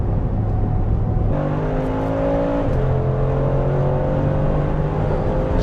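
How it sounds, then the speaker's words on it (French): Loud, continuous engine roar from a Brabus XLP 900 pickup truck, a 900-horsepower three-tonne vehicle, accelerating hard at around 200 km/h, with steady rising gear tones and shifts, no talking. "J'hallucine, c'est un pick-up quoi. Je suis déjà à 200 km/h."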